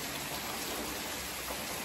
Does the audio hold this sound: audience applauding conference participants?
no